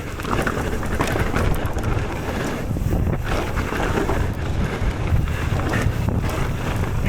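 Heavy wind buffets the microphone of a rider on a bike fitted with high-rise handlebars, a loud continuous rushing roar that surges and dips throughout with no other clear sounds.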